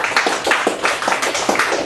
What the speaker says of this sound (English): there's a bit of clapping going on